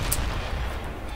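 A lightning cannon firing in a video game, a short sharp blast at the start followed by a fading rumble, with no talking over it.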